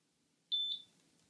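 A single short electronic beep from an ESP8266 and Arduino smart lock, clear and fairly close, lasting about a quarter second against a quiet room.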